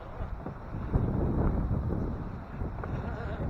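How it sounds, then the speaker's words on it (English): Strong wind buffets the microphone in a constant low roar with gusty surges, loud and close. "It is super windy."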